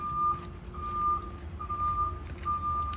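A school bus reverse backup alarm beeps steadily, four long evenly spaced tones ringing out over a low idling engine rumble, heard close with no talking.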